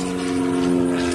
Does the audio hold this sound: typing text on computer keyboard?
no